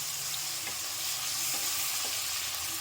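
Turmeric powder sautéing in oil for a fish curry, a steady close sizzle with faint stirring scrapes throughout and no talking.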